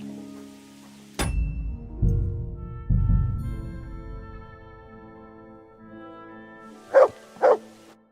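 Dog barking in the medieval video game Kingdom Come: Deliverance II, a low bark, two more thumping woofs over soft rain, then two short sharp yips near the end.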